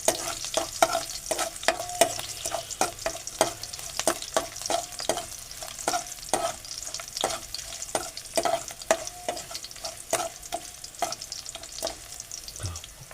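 Garlic sautéing in hot oil in a pan, stirred with a spoon that scrapes and clicks in a steady rhythm over a continuous close sizzle, with no talking.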